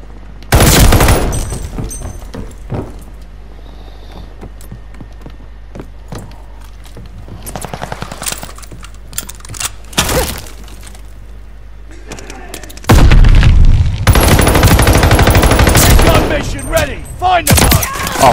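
Bursts of automatic gunfire from a Call of Duty Vanguard free-for-all match, loud and close, with a long sustained volley near the end separated by quieter stretches and scattered single shots.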